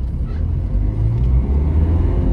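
A Ford Aspire's engine pulls hard in second gear on a hill road, giving a loud, continuous low drone that holds steady from inside the car.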